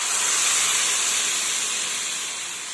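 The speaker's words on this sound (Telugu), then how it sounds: "మజ్జిగ పోసుకుందామండి." Buttermilk hits a hot pan of curry-leaf and turmeric tempering for buttermilk rasam, releasing a loud, steady steam hiss that fades only slightly, close up with no talk.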